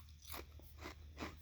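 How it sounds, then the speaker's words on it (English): Crunching from someone eating a small snack: three distinct crisp bites spaced evenly about half a second apart, close and quiet, with no talking. "you hear the crunching sound"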